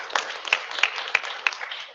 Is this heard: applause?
yes